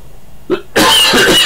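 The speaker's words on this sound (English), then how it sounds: "do excuse me coughing" A short throat-clearing cough, then a harder, louder burst of coughing right up close, two rough hacks in quick succession.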